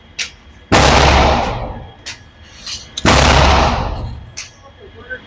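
A Fusion Firearm XP Pro pistol fires two loud, close gunshots about two seconds apart. Each shot carries a long echoing decay, with faint clicks and handling noise between them.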